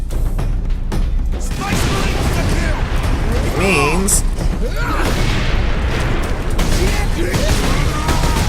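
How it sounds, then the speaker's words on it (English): Explosions in the video game Warhammer 40,000: Space Marine, loud booming blasts and crashing impacts amid dense battle noise and gunfire, with someone talking over the action. "that was not a bad, well-timed explosion"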